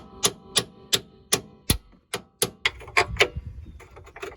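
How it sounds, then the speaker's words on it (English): Sharp metallic taps drive a suspension bolt home on a Ford Focus hatchback suspension arm, about a dozen close, loud strikes in an uneven rhythm, some spaced and some quick, with no talking. "Slight tap to take it down to its threads"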